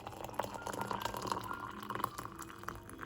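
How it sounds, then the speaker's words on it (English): Boiled water from a kettle poured into a cup for tea, a faint close trickle with gurgling drips over about three seconds. "You use something called a kettle, you boil your water, then you pour it in"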